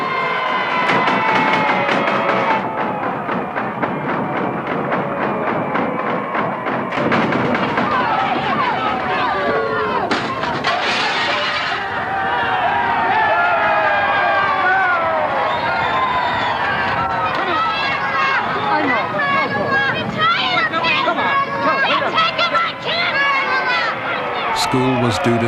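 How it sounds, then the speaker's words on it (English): An angry crowd chases Senator Kennedy to the doors of a federal building in Boston during the 1974 busing crisis, a dense roar of running feet and shouting voices that goes on throughout, loud and close. "The crowd pursued Kennedy to the doors of the federal building."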